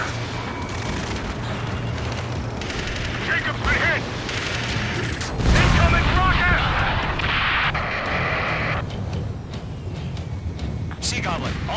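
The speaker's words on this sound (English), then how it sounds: "Incoming rocket" Booming rocket explosions and heavy gunfire rumble through a combat mission in Ace Combat 7 Skies Unknown, with a louder blast midway, under frequent urgent radio chatter.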